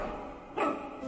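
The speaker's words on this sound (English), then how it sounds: "It's the super bark!" A single short dog bark rises briefly out of a soundtrack background from the animated movie Bolt, faint and somewhat distant.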